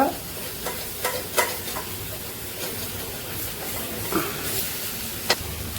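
Chicken frying in a hot pan in a home kitchen, a steady close sizzle and hiss with a few sharp spatters and pops, no voices.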